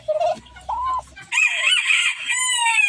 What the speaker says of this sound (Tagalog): Kasama nila maglimlim tong manok.